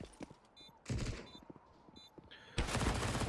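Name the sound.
gunfire in a Counter-Strike video game duel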